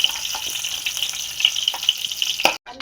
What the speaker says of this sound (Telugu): బెండకాయలు వేయించుకున్న దాంట్లోనే కొన్ని ఆవాలు వేసుకున్నామండి.